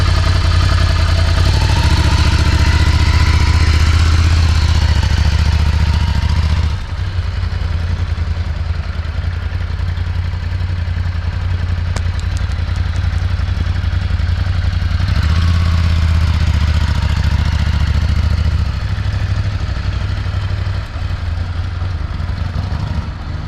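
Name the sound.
Ducati Scrambler motorcycle being ridden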